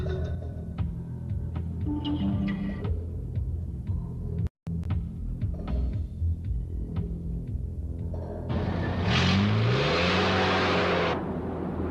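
A BMW engine idles with a low throb, then is revved hard near the end, a loud rising roar with climbing pitch after a brief cutout, close by.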